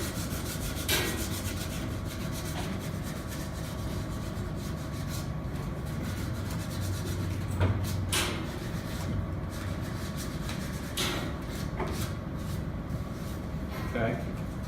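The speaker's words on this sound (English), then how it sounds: "when I'm using the 120 grit with this material, the wrench-shape, that is, it's a fine enough grit so that I can start to work the corners down" Sandpaper of 120 grit rubs back and forth over the corners of a small wrench-shaped workpiece, a steady scratchy rasp with occasional louder strokes, heard close up under someone talking.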